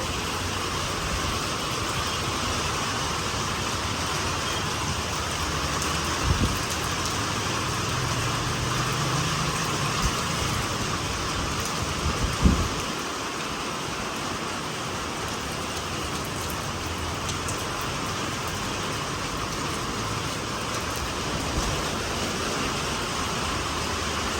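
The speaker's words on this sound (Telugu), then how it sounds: "అప్పుడే వర్షం అయితే వచ్చేస్తుందండి" Steady rain falls on a cloudy day in Kadapa, a dense continuous hiss with no talk, plus a couple of brief low thumps near the middle.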